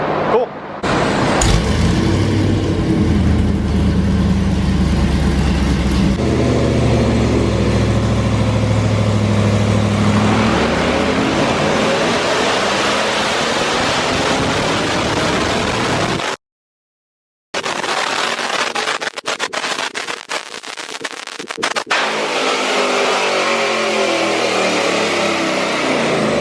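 A Chevrolet Camaro engine on a chassis dyno runs a baseline pull, idling and then climbing in a loud sustained rising roar, cutting out briefly before revving again with sharp crackling bursts.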